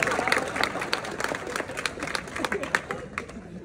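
A crowd at a religious gathering for cow protection applauds in a busy burst of clapping with crowd murmur underneath, tapering slightly toward the end.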